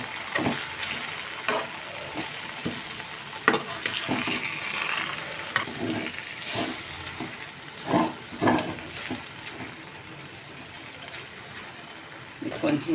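Gongura leaves cook in oil for pickle, with a soft continuous sizzle and occasional spoon scrapes against the pan, fairly quiet, while a person talks over it.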